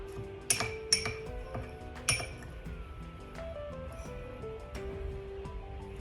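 Potato and cheese mix being packed into a glass mason jar: several bright clinks of metal on glass, then softer scraping and tapping, close and fairly quiet, with no talk.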